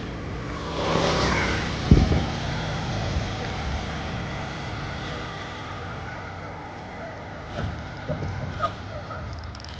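A car out for a ride, heard as a steady, moderately loud road and engine rumble with a sharp knock early on; a faint voice is barely present.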